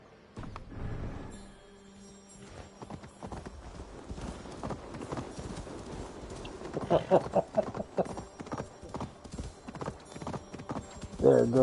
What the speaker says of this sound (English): There goes Rob running down kids on the back of a horse and running over ravens